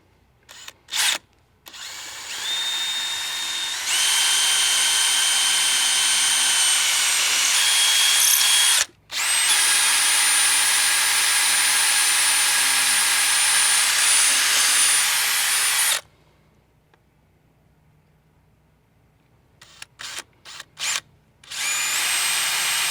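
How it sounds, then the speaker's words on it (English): A power drill bores three holes through a skiff's transom, each burst a loud, steady high whine lasting several seconds, separated by short pauses with a few brief trigger blips at the end. "we can go ahead and drill our 3 holes."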